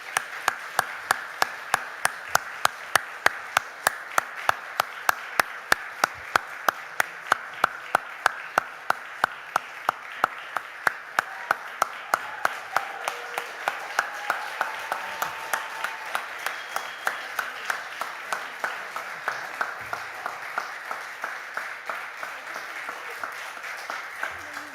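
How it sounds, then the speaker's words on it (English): An audience claps in a steady, dense round of applause at a solidarity town hall for college dining services student workers, lasting over twenty seconds, fairly loud and even throughout, with no talk on top. "let's give them a round of applause as they come up"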